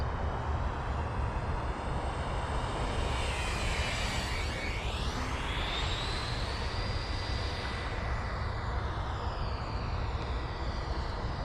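Freewing T-45 Goshawk RC jet with a 90mm electric ducted fan passing by, a steady loud whooshing whine that sweeps in pitch as it flies close overhead, with no talking.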